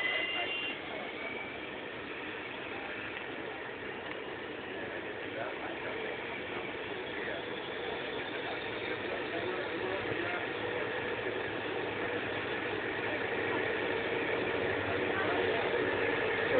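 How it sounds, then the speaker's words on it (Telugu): Steady roar of a large aircraft engine as a plane takes off in Pokhara, Nepal, running continuously and building slightly, with faint voices in the background. "ఫస్ట్ ఫ్లైట్ వచ్చింది, ఫస్ట్ ఫ్లైట్ ఎగురుతోంది"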